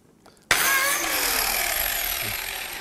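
A biscuit joiner spins up with a sudden loud whine and cuts into oak, the motor holding a steady high-pitched roar that slowly settles, very close with no speech.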